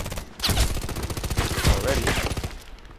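Rapid automatic fire from a PDR-C submachine gun in the shooter game Contract Wars on the Bay 5 map, a loud dense burst of rattling shots lasting most of the moment, with a voice speaking over it.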